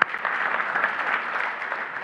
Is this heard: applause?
yes